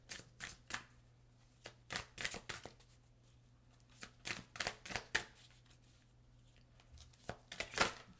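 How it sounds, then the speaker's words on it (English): Green Witch Oracle cards being shuffled close by, a run of quick papery riffles and slaps in irregular bursts with short pauses between them, soft and intimate in a quiet room, no voices. "Let's get you guys some of this Green Witch Oracle cards"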